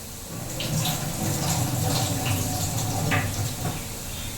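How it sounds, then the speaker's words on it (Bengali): Water boiling in a pot with spices for vegetable fried rice, a continuous bubbling rumble with small pops, moderately loud and steady throughout. "এই যে আমার জলটা দেখতে পাচ্ছেন কত সুন্দর ফুটে গেছে"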